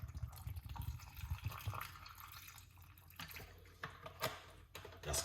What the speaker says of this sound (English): Then we use a little bit of a coconut water